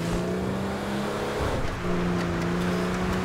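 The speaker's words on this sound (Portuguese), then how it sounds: "O carro acelera e não freia, galera." Car accelerating in GTA V, a loud engine drone with a steady low tone, a brief dip and swell in the middle, then the engine note rising again.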